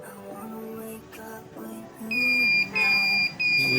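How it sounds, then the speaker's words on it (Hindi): A 1502DS mobile repair power supply sounds its short-circuit alarm: after some quieter tonal sounds, loud high-pitched electronic beeps start, then cut off and resume in a close, repeated pattern. "अगर सर्किट शॉर्ट हो तो इसको बीप देनी चाहिए"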